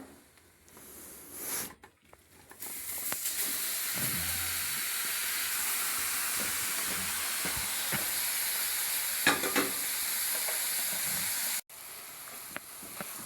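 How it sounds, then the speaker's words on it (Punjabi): Grated carrots sizzle steadily in browned roasted flour, a constant loud frying hiss broken by scraping stir strokes, for a carrot barfi made without khoya. "ਹੁਣ ਆਪਾਂ ਜਿਹੜੀਆਂ ਆਪਾਂ ਗਾਜਰਾਂ ਤਿਆਰ ਕੀਤੀਆਂ ਸੀ ਉਹ ਆਪਾਂ ਇਹਦੇ ਵਿੱਚ ਐਡ ਕਰਾਂਗੇ"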